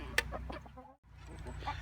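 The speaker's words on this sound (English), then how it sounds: "These little tiny Bantam chickens are laying these eggs, which are really pretty." Small Bantam chickens in a farm pen cluck softly, with low, faint, scattered clucks and a brief pause partway through, heard at a distance under quiet room tone.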